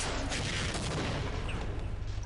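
A tank firing in the Half-Life video game, with dense, continuous booming blasts and crackling gunfire that fill the whole moment loudly.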